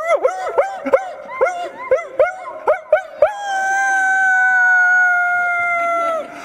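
Several people take turns imitating a dog howling: a series of short, swooping vocal howls, then one long sustained howl near the end, loud and close with no other talk.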